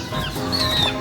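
Chickens in a cage cluck close by, a short run of throaty clucks and squawks with a brief higher call in between, heard without speech.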